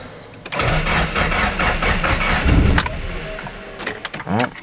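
Engine cranking on a Nissan S14 with no seats in the cabin after a new engine swap, the fuel pump kicking in first, then a steady loud whirring crank for a couple of seconds, followed by brief clatter and short bursts.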